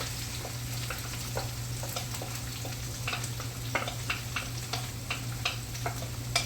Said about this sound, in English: I'm going to add my eggplant, my onion, and my pepper.